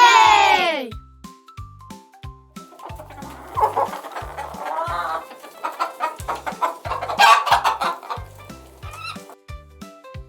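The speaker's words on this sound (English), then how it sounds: "It's a hen." A farm hen clucks in quick repeated bursts over a bouncy, rhythmic music track, with a sharp higher bird call at the very start.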